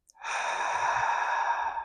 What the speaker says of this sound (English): Taking a big inhale together and an exhale.